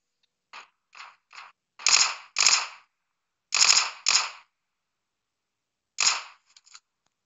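Gunfire in the mobile battle royale game PUBG Mobile: isolated single shots and quick pairs of sharp cracks with short gaps of silence between them, loud and dry.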